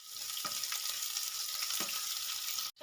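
Medium onion, finely chopped, frying in hot oil with tempering spices for a Bengali jackfruit-seed and prawn dish: a steady dense sizzle with a few soft stirring knocks, ending in a brief cut-off.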